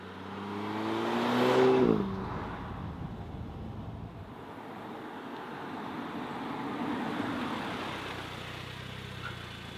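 Car driving the Gardesana road along Lake Garda near Torbole sul Garda and Limone, with a loud engine surge early that eases into a steady road and engine rumble.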